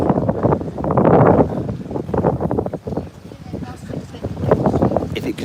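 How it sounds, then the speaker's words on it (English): Gusty wind buffets the microphone in loud rumbling bursts, rising and falling under a person talking during a walk at Playa de las Américas. "the wind should pass a little bit."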